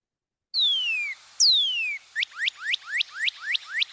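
Recorded bird song of clear, loud whistles: two long descending whistled notes followed by a rapid series of seven or eight short upslurred whistles, bright and close with no other sound.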